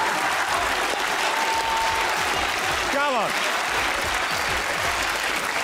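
A studio audience at a comedy talk show gives a loud, sustained round of applause. The clapping stays dense and continuous while someone speaks briefly over it.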